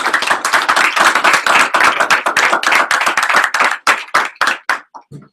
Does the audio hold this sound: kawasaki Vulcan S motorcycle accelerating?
no